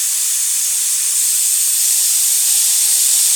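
Close, loud, continuous hiss of a Central Pneumatic spray gun spraying water in a steady burst that cuts off abruptly at the end.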